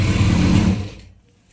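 A sewing machine runs briefly while stitching a patiala salwar, a short close whirring burst of under a second that cuts off into near silence.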